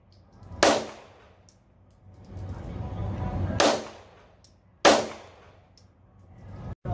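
Pistol shots fired one-handed at a gun range, three sharp loud reports spaced a few seconds apart, with the room's reverberant decay and faint shuffling between them.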